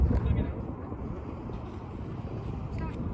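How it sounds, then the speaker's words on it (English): Wind buffets the microphone aboard a Blackjack 24 boat on choppy water, a constant low rumbling roar with a voice speaking faintly underneath. "That wind sucks."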